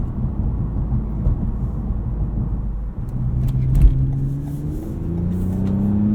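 Engine of a 2020 Toyota Camry TRD V6 pulling hard out of a corner, a steady low rumble that swells as revs climb with rising tones, heard from inside the cabin.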